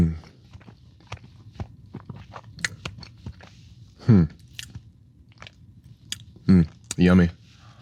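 Someone bites into and chews a Crumbl cookie, with soft, close crunchy bites and mouth sounds scattered through the clip and a few louder bursts near the end.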